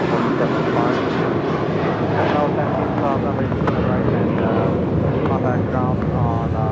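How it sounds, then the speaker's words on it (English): An American Airlines A321 jet departs LAX with a loud, sustained engine roar that holds steady and close throughout, while a voice talks over the noise. "2982 departing to Chicago O'Hare on an A321"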